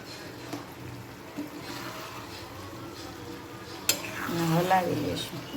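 Ivy gourd and potato curry, seasoned with red chili powder, fries in a pan and is stirred, giving a soft steady sizzle with an occasional scrape, and a voice speaks briefly near the end.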